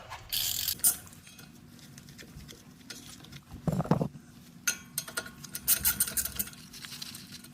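A ratchet fitted with a T40 Torx bit loosens a bolt during rear differential output seal work on a 2007-or-later Ford/Lincoln, with a loud snap followed by bursts of rapid close ratchet clicking.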